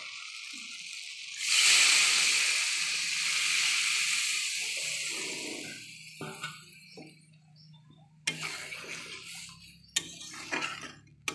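Water is poured into a pan of fried spices for a rohu fish curry, making a sudden loud hissing rush that fades into bubbling and simmering. Sharp utensil clicks and clinks follow.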